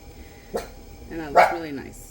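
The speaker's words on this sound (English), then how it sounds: "If you hear a little dog barking," A small dog gives a couple of short, sharp barks in the background while a person talks over them during pottery wheel throwing.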